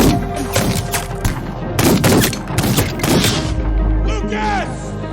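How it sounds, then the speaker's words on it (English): Gunfire during an ambush in a film, rapid loud volleys of shots in clustered bursts, with booming low thuds and a lingering rumble toward the end. "Though Harlan wounds one attacker, he takes a bullet in return."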